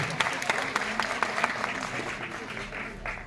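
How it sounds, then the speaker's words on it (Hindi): Loud applause from an audience at a Gita Mahotsav closing ceremony, honoring teacher Jyotsna; dense steady clapping with sharper claps standing out, sustained for a few seconds. "एक जोरदार तालियां मैडम ज्योत्सना के लिए भी"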